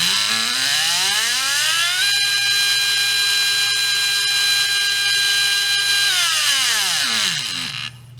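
Brushless RC car motor spun up alone on a test, winding up with a rising whine, holding a steady high-pitched scream at top RPM for several seconds, then spooling down to a stop.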